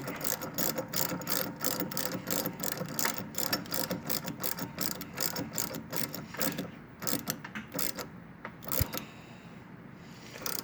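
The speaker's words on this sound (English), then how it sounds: "Using the 3/4 ratchet, if you have one." A 3/4-inch ratchet clicks in fast, even bursts while tightening an auto linkage, the rapid pawl ticking close and loud, slowing to a few sparse clicks near the end, with no voices.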